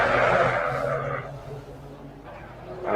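Race car spinning out in a racing video game, a broad hissing tire skid sweeping loud at the start and easing off, engine drone beneath, with a brief renewed burst at the end.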